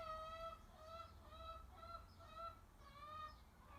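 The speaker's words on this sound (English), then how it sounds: "That's the sound of a chicken." Chickens near a garden greenhouse give a string of repeated, nasal clucking calls, quiet and somewhat distant over a low background rumble.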